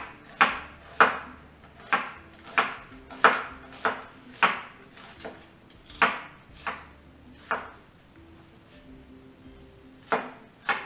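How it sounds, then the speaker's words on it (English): A knife chops onion steadily on a cutting board, about a dozen sharp, evenly spaced strokes that slow slightly toward the end, close and clear. "I'm going to start off with chopping up some onion here."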